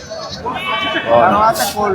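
Sheep bleat amid the crowd at a livestock market in Nallapadu, Guntur, with several calls rising over a steady background of people talking nearby.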